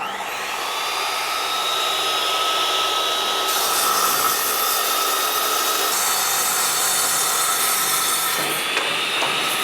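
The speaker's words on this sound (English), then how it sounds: "we'll be ready to make a cut, and again using this like a big sliding miter saw" A Safety Speed SR5 saw router combo makes a crosscut like a big sliding miter saw, its motor whining steadily and loudly while the blade cuts through the workpiece, with the pitch shifting partway through.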